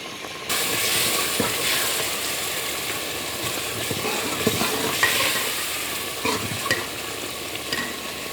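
Chicken and shell macaroni cooking in a pan, giving a steady close sizzle and bubbling hiss that runs throughout, with a few soft clinks and scrapes on top and no talking.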